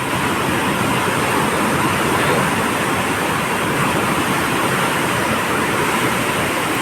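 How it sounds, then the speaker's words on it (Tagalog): Large sea waves crash continuously onto the shore in Sablayan, Occidental Mindoro, during Typhoon Dante, forming a loud, unbroken roar of surf that holds steady from start to finish. "sobrang lalaki ng alon"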